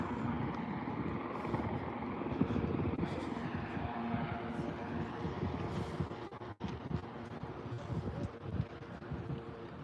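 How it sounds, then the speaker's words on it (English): A helicopter passes over a city street on a walking tour in Victoria, Canada, its low rumbling drone steady under wind noise and faint nearby speech. "I don't like the noise of that helicopter."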